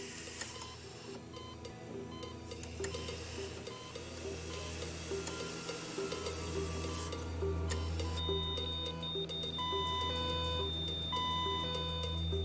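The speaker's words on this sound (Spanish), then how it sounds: "Pero cuando el niño dejó de respirar, la alarma médica habló por él." A hospital-style medical alarm sounds in a tense drama scene, its steady electronic tones running alongside a dense musical score through most of the passage.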